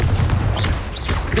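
Spell blasts in Hogwarts Legacy: loud, dense booming explosions that rumble on continuously with whooshing bursts, close and heavy.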